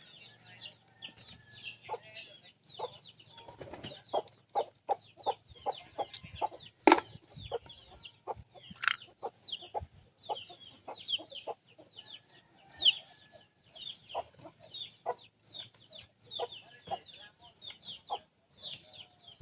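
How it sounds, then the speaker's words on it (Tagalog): Small chicks being put into a bucket: a steady stream of high, close peeping and cheeping in quick irregular bursts, with occasional faint clucks in the background. "Sulod ato ni sa baldi ang mga pisa kay gagmay."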